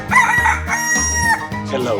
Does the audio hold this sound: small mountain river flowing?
no